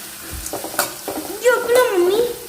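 Onions stirred and sautéing in a pan for semiya upma, a soft scraping stir with light sizzle, close up, while a voice talks over it.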